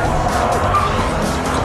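A Mercedes race car driven hard by Damon Hill skids with a sustained, loud tire squeal over engine roar, close and continuous.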